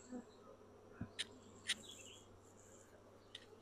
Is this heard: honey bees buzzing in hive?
yes